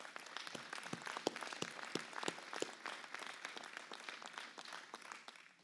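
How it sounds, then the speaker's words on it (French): Audience applause for local associations at a French town New Year's greetings ceremony in Le Mesnil-Saint-Denis, a steady patter of many hands clapping at moderate distance that fades out near the end. "je pense qu'on peut applaudir toutes les associations aussi"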